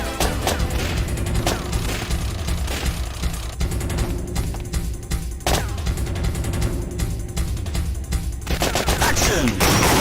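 Dense automatic gunfire and volleys of shots from a retro shooter game keep up a loud, nearly unbroken barrage, with brief lulls, a few heavy impacts and voices shouting through it.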